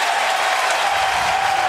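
A baseball crowd on its feet in the ninth inning of a 2008 LSU vs UC Irvine Super Regional game, loud sustained applause and crowd roar, steady throughout.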